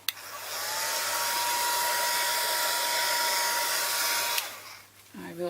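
A hair dryer blows steadily and loudly for about four seconds, a continuous broadband rush that cuts off abruptly, leaving a brief quiet room tone and small handling noises afterward.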